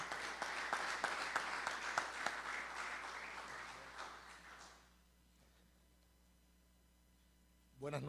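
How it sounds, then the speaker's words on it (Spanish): An audience at an international football symposium applauds goalkeeper Apolinar de la Cruz, with dense steady clapping for about five seconds that then dies away into quiet room tone. "vamos a darle un aplauso a Apolinar de la Cruz"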